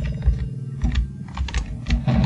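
Computer keyboard keys clacking steadily while playing Wolfenstein 3D, a close run of taps and presses mixed with low game sounds and rumble.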